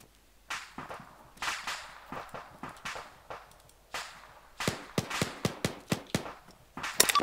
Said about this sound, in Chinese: 我听到枪声